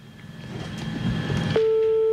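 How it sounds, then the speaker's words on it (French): A steady telephone ringing or busy tone cuts in abruptly through a headset during a live radio broadcast, holding a single pitch over a murmur of room noise and movement. "on a une sonnerie dans le casque, nous"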